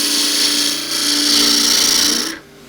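A wood lathe spins while a gouge cuts a small natural-edge bowl, giving a loud, continuous shearing hiss with a steady hum beneath it that stops abruptly near the end.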